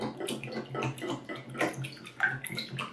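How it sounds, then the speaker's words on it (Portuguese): Eggs being whisked by hand for a New Year's cake batter, a fast irregular run of wet tapping and sloshing strokes, close and moderately loud, with no one talking. "Vou bater só um bocadinho."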